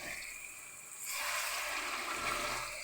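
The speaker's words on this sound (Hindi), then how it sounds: "अब मैं इसमें थोड़ा सा पानी ऐड करूँगी ताकि आलू का जो कच्चापन है वो अच्छे तरीके से ख़त्म हो जाए।" About half a glass of water is poured into a pan of potato and capsicum curry, starting with a soft hiss and swelling into a steady splashing rush after a second.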